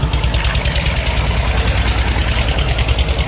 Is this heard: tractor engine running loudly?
yes